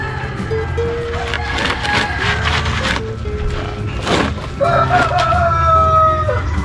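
Noisy backyard pet chickens cluck and a rooster crows during hibiscus planting, loud and near, with short clucks and a long crowing call, plus a drawn-out crow near the end.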